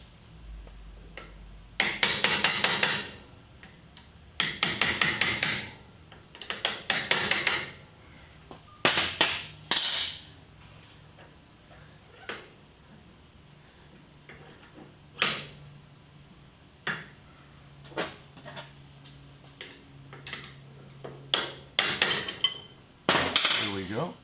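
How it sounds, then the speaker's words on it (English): A hammer strikes a metal punch in bursts of rapid ringing blows to knock a part loose while assembling a Mark 7 650 autodrive, with sharp metallic clanks and pauses between the loud groups. "Sometimes you have to use a punch."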